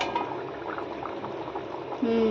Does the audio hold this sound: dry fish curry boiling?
yes